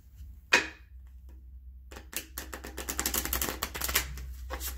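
Tarot cards being shuffled by hand, a single quick riffle early on, then after a pause a long run of rapid crisp flicks and snaps, close and fairly quiet over a low steady hum.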